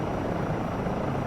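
A helicopter flies over a Glacier Park route in Microsoft Flight Simulator 2024, its steady close rotor thump and engine roar filling the short stretch with no voices.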